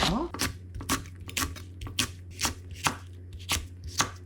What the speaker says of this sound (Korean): 청양고추는요 이렇게 한 입 크기로 썰으세요